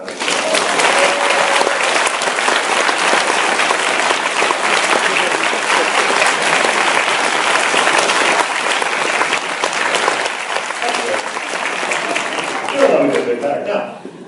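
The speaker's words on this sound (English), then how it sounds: "Please give my parents a round of applause." Sustained applause from a lecture audience of about 200 people honoring the speaker's parents at a university award last lecture, steady dense clapping filling the whole stretch and tapering slightly near the end.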